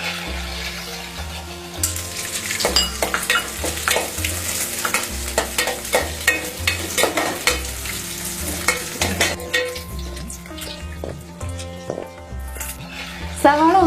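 Sliced onions frying in a pan with curry leaves for a Kerala raw mango curry, a loud crackling sizzle that flares up after a couple of seconds and continues with repeated scraping stirs and bursts of spattering.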